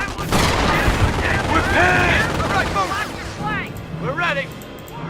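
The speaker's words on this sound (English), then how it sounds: "There goes my machine gun nest." Dense battlefield gunfire from the Company of Heroes World War II game during the Normandy invasion at Montebourg, with loud sustained rattling bursts and booms throughout, while someone speaks over the din.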